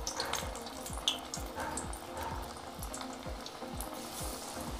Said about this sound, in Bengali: এবার আমি হাতের মধ্যে নিয়ে একটু একটু করে এঁচড়ের বড়াগুলো গরম তেলে ছেড়ে দেব আর সুন্দর করে ভেজে নেব